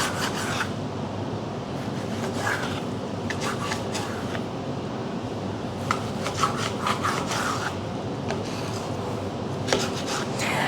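A knife chops bacon into pieces on a cutting board, with repeated scraping, rasping strokes and soft taps at an uneven rhythm, close and fairly quiet throughout.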